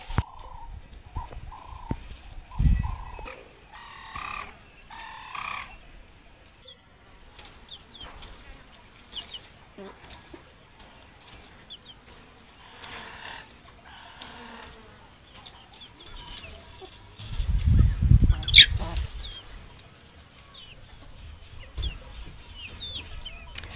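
Chickens and geese on a rural off-grid farm in Maasai land, Kenya, clucking and calling in scattered bursts, with a louder flurry of wing flapping and squawks midway, all close by and without speech.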